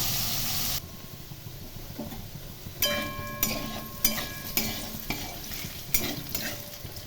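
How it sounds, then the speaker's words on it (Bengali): Potatoes fry in oil in a pan for a potato and pointed gourd curry, a gentle sizzle broken by a rhythmic series of metallic spatula scrapes and clinks as they are turned. "আলুগুলো একটু ভালো করে লাল করে ভেজে নেব"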